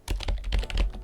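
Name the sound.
typing a file name on a computer keyboard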